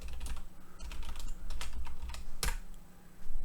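Quick bursts of keystrokes on a computer keyboard while renaming a part in OnShape CAD software, clattering close and clear with no talking, with one sharp louder click standing out near the end.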